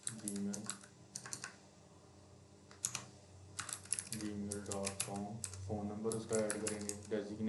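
Close keyboard typing enters form details such as name, address and email into an app, coming in irregular bursts of crisp clicks with short pauses. Someone talks in Hindi between and over the keystrokes.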